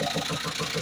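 The D4BB engine in a Hyundai H100 runs with a steady, rhythmic knock, a regular drumming pulse repeating about every tenth of a second over the mid-range engine drone.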